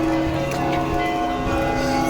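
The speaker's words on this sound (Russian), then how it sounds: "Всегда идти на звон колоколов." Church bells ring on Nikolskaya Street in Moscow, a dense, sustained peal of overlapping tones holding steady and fairly loud throughout, with street ambience beneath.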